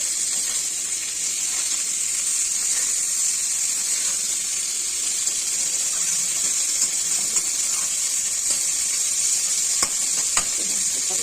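Drumstick (sajna) pieces frying in a pan, a continuous, fairly loud sizzle with a few faint scraping stirs near the end, no voices.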